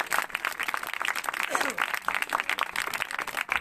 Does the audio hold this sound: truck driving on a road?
no